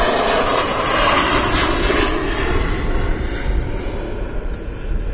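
A KLM Embraer jet at Amsterdam Schiphol Airport gives a loud, steady engine roar that holds for the whole stretch, broad and rumbling with a faint rise and fall, and no voices over it.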